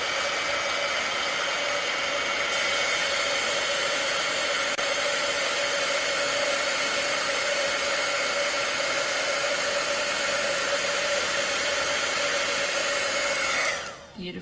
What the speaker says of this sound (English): Okay, so here I go with my heat tool again.